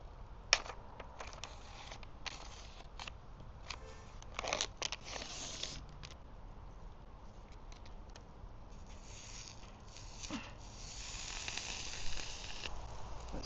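Bacon sizzling on a small Bushbox wood stove outdoors, a steady faint hiss broken by scattered sharp pops and crackling bursts over several seconds.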